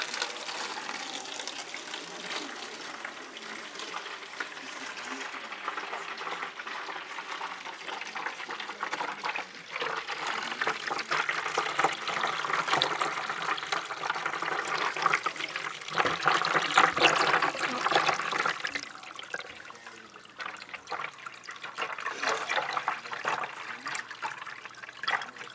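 Moss gets rinsed under a running tap for betta breeding, giving a continuous close splash and trickle of water that swells midway and eases toward the end, with no speech over it.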